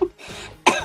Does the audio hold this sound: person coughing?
yes